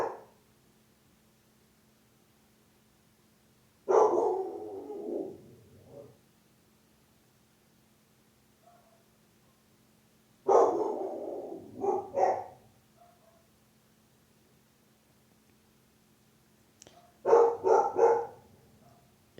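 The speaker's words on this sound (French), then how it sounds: "J'attends que Monsieur le chien veuille bien se taire." A dog barks in three separate short bursts, each a cluster of a few barks spaced several seconds apart, moderately distant over a quiet indoor room.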